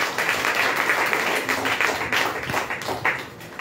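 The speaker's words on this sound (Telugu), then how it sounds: "చప్పట్లు కొట్టండి గట్టిగా" A church congregation at a Sunday worship service clapping hard together, a dense, continuous wash of applause with loud, slightly uneven beats throughout.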